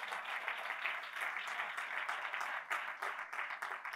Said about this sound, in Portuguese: Vai aplaudir, aplauda forte que é para Ele.